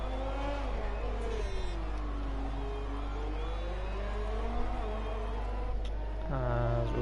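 A race car engine in a Formula-style racing video game lapping the Singapore circuit whines steadily, its pitch sweeping up and down through gear changes, then climbs sharply in a loud revving burst near the end.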